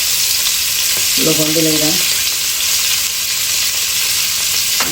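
Garlic frying in oil in a Bangladeshi home kitchen, with a steady loud sizzle running throughout and a brief tonal scrape or clink near the start, while a person speaks briefly over it.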